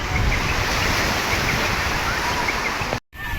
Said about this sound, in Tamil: அலை அடிக்குது ஆனால் லேசாக அடிக்குது ரொம்ப லேசாக இருக்குது